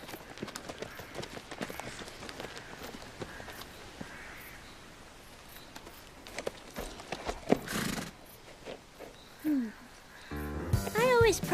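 Horses in an animated film scene, with soft hoof clops, a whinny near the end and bird caws, heard faintly under music and ambient sound.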